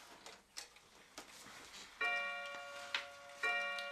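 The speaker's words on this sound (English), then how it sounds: "until she heard the clock strike" A clock ticks steadily and softly, then strikes with two ringing chimes that sustain and overlap, all at low volume.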